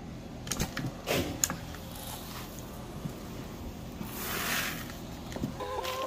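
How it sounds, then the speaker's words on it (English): Chickens outdoors in extreme winter cold give scattered soft clucks and short calls, faint and fairly distant over a steady background hiss, with a few brief knocks and rustles. "I had the bucket and the chickens ran to me"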